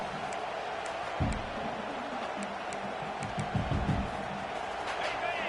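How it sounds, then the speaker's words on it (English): A loud stadium crowd at a college football game roars on a fourth down, with bursts of cheering and a commentator's voice speaking over the din. "This crowd busting the decibel meter and trying to will a fourth down stop."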